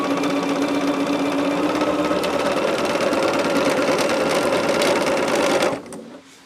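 A sewing machine runs steadily, close and loud, stitching sashing strips onto a quilt top, its even motor hum and rapid needle chatter continuing for several seconds before stopping abruptly near the end.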